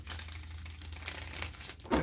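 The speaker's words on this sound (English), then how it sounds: "One more shuffle." Tarot cards being shuffled by hand in a quiet room, a steady run of soft papery riffling and crinkling that ends in a louder snap of the deck.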